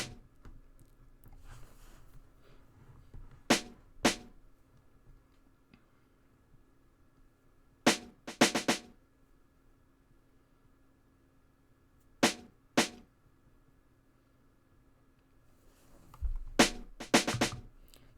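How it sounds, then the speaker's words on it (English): A crisp snare sample from a hip hop beat snaps in short sharp hits, single and doubled, spaced a few seconds apart over a quiet low hum, with reverb and delay adding space. "The last sound is this snare"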